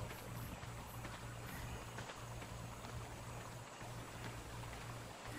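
A character swims through water in the survival video game ARK, with a continuous rushing wash of water and faint rhythmic splashing and no talk.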